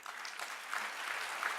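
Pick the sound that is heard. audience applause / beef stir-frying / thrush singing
audience applause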